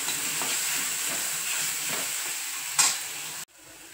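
Green chilies with turmeric sizzle steadily in a hot pan while being stirred, with a scraping stroke near the end. The sound then drops abruptly to a quieter hiss.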